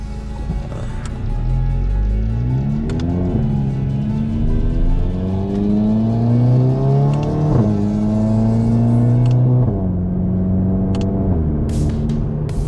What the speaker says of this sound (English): We'll see if we can roll it through a couple gears